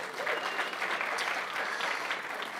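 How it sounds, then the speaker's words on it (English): Audience applause at a Christmas jazz concert, a steady wash of many hands clapping that carries evenly through the whole stretch at moderate distance. "Let's give her a round of applause."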